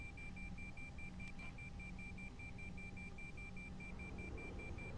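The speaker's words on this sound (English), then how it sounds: "That's the beeping I'm talking about." Steady, repeating electronic warning beeps from an Airbus A330 cockpit in the X-Plane 12 flight simulator game, even and moderately quiet over a low background hum.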